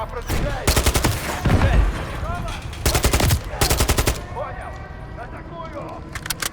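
Rapid automatic gunfire from Call of Duty in a terrorist-base attack match, loud bursts of several rounds each spaced by short gaps, with a voice talking under and between the volleys.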